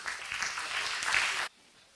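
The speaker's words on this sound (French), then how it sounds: "j'aimerais aussi qu'on les applaudisse" Audience applauding guests of honour at a conference round table, a dense wash of clapping that fills the hall and then cuts off abruptly near the end.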